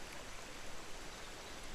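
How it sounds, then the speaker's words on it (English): A mountain stream gushes down onto rocks, its steady broadband rushing of water holding at a constant low, distant level throughout with no voices. "The stream races down from the mountains and gushes onto the rocks."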